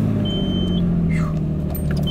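Fox body car idles with a steady low engine rumble as it backs up on a cold day with its door open, the drone constant and close, with a faint high chime and small clinks on top.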